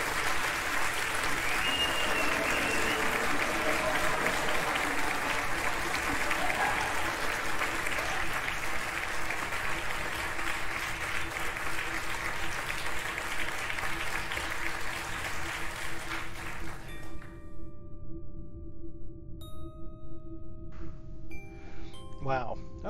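Loud, sustained applause from a large crowd fills most of the clip, then cuts off abruptly into near silence with faint tones, at the end of a video game playthrough.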